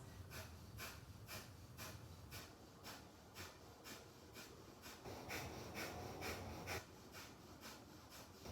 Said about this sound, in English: Breath of fire can be slow or fast.